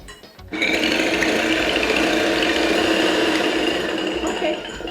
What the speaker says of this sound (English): I'm just going to use my hand mixer to just mix this until it's perfectly beaten